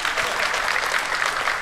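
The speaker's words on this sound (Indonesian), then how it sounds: "tepuk tangan buat bintang tamu kita malam hari ini" A studio audience applauding a guest on an evening talk show, a dense, continuous wash of clapping at even loudness with no voices rising above it.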